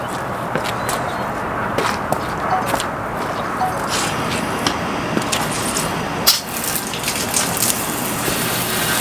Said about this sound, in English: I'm actually just washing the wheels